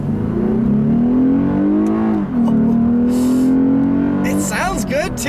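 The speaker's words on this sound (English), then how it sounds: "Let's see about another acceleration here," A 2015 Lexus RC350 AWD F-Sport accelerates hard, its engine note rising steadily with a brief dip at a gear change, then climbing again, heard from inside the cabin.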